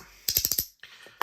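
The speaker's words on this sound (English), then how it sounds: "Every time it jumps, it's literally popping apart and then clicking back together." Compoform Gorgon haptic slider coins snap apart and click back together in a quick burst of five or six sharp, close clicks, followed after a short pause by a few softer clacks and one last crisp click.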